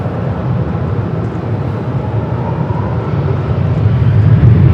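A jet airliner takes off at LAX, a steady, heavy broadband roar and rumble that builds in loudness toward the end, with no voices.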